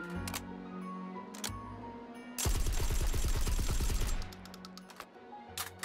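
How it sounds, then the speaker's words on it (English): Loud bursts of virtual shotgun fire with double-aught buckshot in a VR shooter, a dense blast from about 2.4 to 4.2 seconds with quieter clicks and handling before and after. "Let's do the buckshot."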